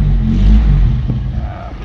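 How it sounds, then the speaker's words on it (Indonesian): A car fitted with an aftermarket grong exhaust rumbles loudly at close range in a brief deep low idle that eases off slightly. "knalpotnya pakai knalpot grong"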